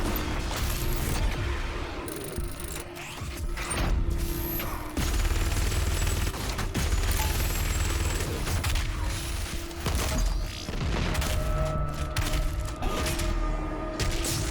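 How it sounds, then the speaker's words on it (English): Rapid, loud mechanical gunfire from a chain gun in the video game Doom Eternal, a dense rattling barrage that carries almost unbroken through the whole stretch amid other chaotic combat noise. "Chain gun, yay!"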